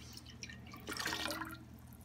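Apple cider is poured into a turkey brine of rosemary, salt, bay leaves and water, a soft splashing, gurgling stream lasting about a second.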